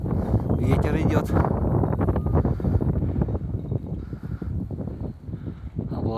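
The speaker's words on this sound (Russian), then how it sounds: "ветер идет" Gusty wind buffets the microphone with a constant low rumble while a person talks over it outdoors on a city street in Yakutsk.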